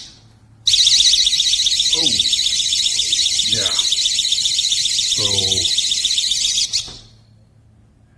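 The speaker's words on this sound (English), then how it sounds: "as you can tell, that is a pretty piercing alarm there." A GE personal security window and door alarm blares a piercing, continuous high-pitched tone for about six seconds before cutting off, while a person talks over it.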